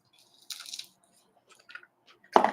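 Shrimp being chewed in short, soft, moist bursts with wet crunchy bites, close to the mouth in a quiet room.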